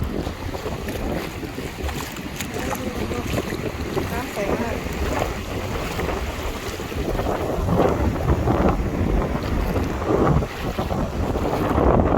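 Strong wind buffets the microphone on the beach at Hua Hin, a loud, continuous rumble with surf washing in underneath and a voice faintly in the mix.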